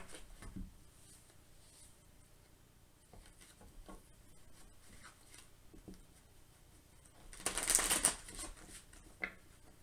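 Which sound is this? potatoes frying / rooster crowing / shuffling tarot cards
shuffling tarot cards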